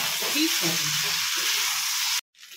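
Potatoes for aloo posto fry and get stirred in a pan, giving a constant close sizzle with soft stirring, while a voice talks underneath. The sound cuts off abruptly near the end.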